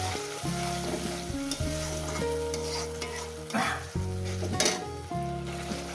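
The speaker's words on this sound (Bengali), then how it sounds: "দিয়ে এটাকে কষিয়ে নেবো।" Spice paste with potatoes frying for a chela fish curry sizzles steadily while a spoon stirs and scrapes against the pot in repeated strokes, close and alone.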